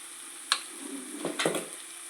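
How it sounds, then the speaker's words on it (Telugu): Eggs frying in a pan with turmeric, chilli powder, salt and masala for an egg fry, with a steady soft sizzle and a few brief stirring scrapes, no talk. "వేసుకుని బాగా కలుపుకొని ఒక్క నిమిషం వేపుకోవాలండి"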